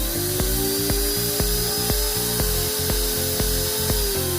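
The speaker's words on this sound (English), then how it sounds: "let's check moving a 276 and a 110 ounce per inch stepper motor and the wood router." CNC machine with 276 and 110 ounce-per-inch stepper motors and a wood router running: a loud steady high whine with a tonal motor hum, punctuated by regular rhythmic clicks about twice a second.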